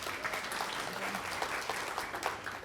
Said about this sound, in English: Let's give Cynthia a round of applause.